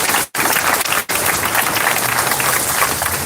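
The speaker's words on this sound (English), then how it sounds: "Give them another round of applause." Dense applause from a crowd of marchers honoring volunteers at a Denver solidarity march, steady and loud with two brief dropouts near the start, then continuous clapping to the end.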